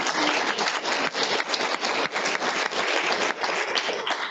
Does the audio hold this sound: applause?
yes